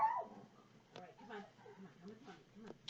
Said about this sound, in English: my dog wants to see me now